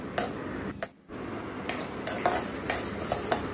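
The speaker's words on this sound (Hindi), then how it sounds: "जहाँ पर आप इसको ऐसे चलाएंगे ना, इसमें खनक जैसी एक आवाज़ आएगी अलग तरह की" Roasted dal moth lentils stirred in a pan give a dry, rattling clink, with a run of close scraping and ticking strokes broken by a short pause near the start.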